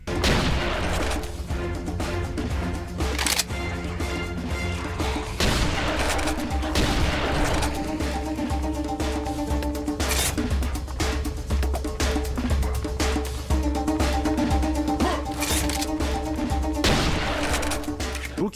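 Dense gunfire and explosions from the Serious Sam 3 video game, with rapid machine-gun bursts, heavy booms and crashes rolling continuously and loudly, and no voices over them.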